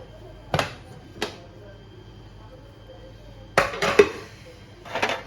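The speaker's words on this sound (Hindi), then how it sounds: "प्रेशर बंद कर दिया। अब ये ओपन करने लगी मैं।" A pressure cooker lid being opened after the pressure is released, heard as a few sharp metallic clinks and clatters spaced apart, with a louder cluster of knocks near the end over a quiet kitchen background.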